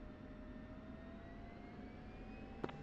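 F-16 jet engines running up in a flight simulator game, a steady low turbine roar with rising whine tones, ending in a brief sharp click.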